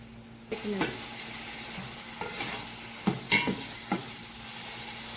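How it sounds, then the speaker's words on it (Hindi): Onions fry in a pan until light brown for chicken white pulao, a steady sizzle broken by several scraping stirs of a spoon against the pan, close up and with no one talking. "और थोड़ी सी देर और इसको भून लूंगी। इसको लाइट ब्राउन करना है।"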